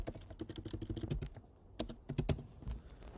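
Fingers type on a computer keyboard in quick irregular bursts of close, crisp key clicks, with a brief pause in the middle before another flurry of keystrokes.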